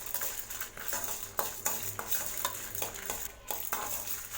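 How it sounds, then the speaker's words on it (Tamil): Dry red chillies and peanuts roast in a pan for a bitter gourd chutney, with repeated scraping and clinking of a spoon against the pan over a soft, steady sizzle. "பாருங்கள், வரமிளகாவும் நல்லா வறுபட்டுருச்சு."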